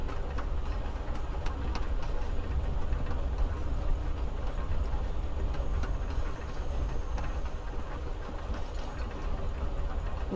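Steady rolling rumble of a train ride in the game Life is Strange Before the Storm, a continuous clattering carriage drone with faint rhythmic clicks throughout, no voices.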